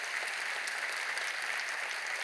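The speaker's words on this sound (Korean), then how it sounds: "집사님들 여러분 크게 박수로 격려하시고" A church congregation of deacons claps to encourage a parish group at a training gathering, an even, sustained crackle of many hands heard from a distance, continuous and steady.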